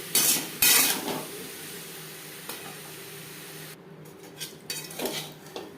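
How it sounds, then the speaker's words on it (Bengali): Potatoes frying with salt and turmeric in a pan, with sharp metal scrapes and clinks of a spatula stirring near the start and end, and a soft sizzle between them. "লবণ হলুদ দিয়ে আলু ভাজ ভেজে নেব"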